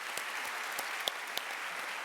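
Audience at a convocation ceremony applauding in a steady, even patter of many hands, with a few sharper individual claps standing out.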